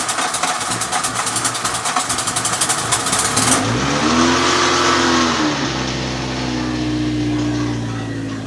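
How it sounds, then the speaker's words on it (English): A Mk2 Golf GTI with an idle problem: a rough, rattly engine runs at first, then cranks over and settles into a steady, fairly loud idle close by, with an alternator rattle in the mix. "I'll give it another turn over just to make sure that it's idling sweet."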